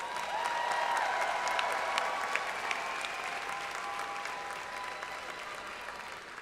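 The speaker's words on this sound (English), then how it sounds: "Please join me in another round of applause for our graduates" A large crowd applauds graduates at a university summer commencement ceremony at Prairie View A&M. The sustained, even clapping fills a big hall and rolls on for several seconds, fading slightly toward the end.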